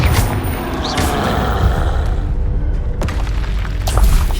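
A Confringo explosive spell blast in Hogwarts Legacy, a loud booming burst with dense low rumble sustained across the clip and a few sharper cracks near the middle and end.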